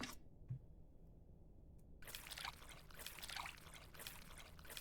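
Water is poured into a bowl of tamarind in the cooking game Venba, heard as a steady trickling pour that starts abruptly midway and continues to the end at moderate level.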